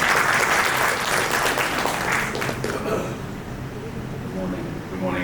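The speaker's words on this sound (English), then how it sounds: "Let's welcome with a round of applause." An audience at a FICCI media and entertainment conference applauds to welcome a speaker, dense sustained clapping that fades out over a few seconds into quieter room tone.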